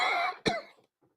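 A single harsh cough, close and fairly loud, preceded by a brief breathy throat sound, then quiet.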